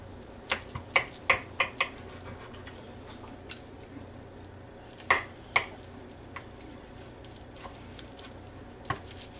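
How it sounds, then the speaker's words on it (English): Fork and knife working through a tender roasted pork chop on a plate, a run of light, close clinks and scrapes clustered early, then scattered taps over a quiet room. "I'm going to get me a fork and a knife and try a little piece of it here"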